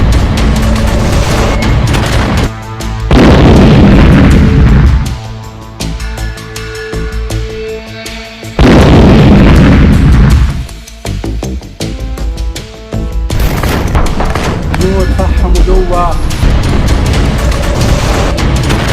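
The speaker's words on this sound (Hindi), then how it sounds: "आसमान से आईडीएफ हिजबुल्लाह पर बम और गोले बरसा रही है" Bombs and artillery shells exploding in the Israel–Hezbollah war: repeated heavy booms and blasts in bursts, loud and close, with rumbling between impacts and dense crackling stretches.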